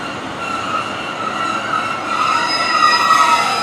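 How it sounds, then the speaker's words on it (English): A Great Western Railway passenger train approaches Yatton station, rolling in with a steady rising rumble and high wheel squeal, growing gradually louder over a few seconds with no voices. "Also on its way is the 1252 Great Western Railway service to Cardiff Central from Taunton."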